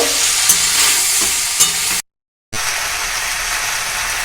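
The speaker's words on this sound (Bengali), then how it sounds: "দিয়ে ভালো করে নেড়ে চেড়ে ভেজে নেব" Pasta sizzles as it fries in a pan with spoon strokes scraping through it, a steady close hiss with soft knocks that drops to silence for a moment, then picks back up.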